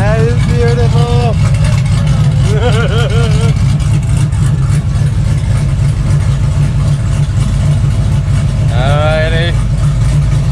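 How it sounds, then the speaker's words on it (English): A 2002 Chevy Suburban idles with its exhaust cutout open, a loud, steady low rumble running throughout, with people talking over it at a few points. "It sounds like a pro street idling."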